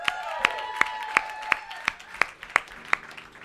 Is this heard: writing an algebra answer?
no